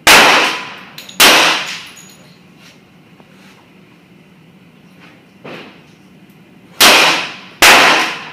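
Gunshots at an outdoor shooting range, four sharp loud reports in an uneven sequence, two close together at the start and two near the end, each ringing out briefly over a quiet background.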